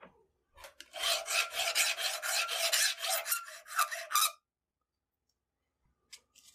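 A file rasps rapidly back and forth over the sharp edges of a small metal piece from a rifle, a close, loud run of scraping strokes lasting about three seconds before stopping.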